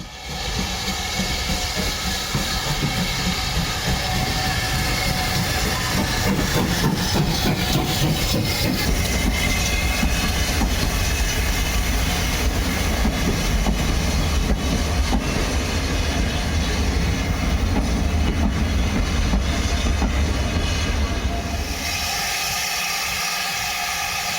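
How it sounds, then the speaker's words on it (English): Steam locomotive 7812 Erlestoke Manor hauling a set of LNER teak carriages into a loop line, a loud, steady rumble and hiss of engine and rolling wheels that holds throughout, easing off at the very end. "7812 Erlestoke Manor pulls the LNER teak set into the northbound"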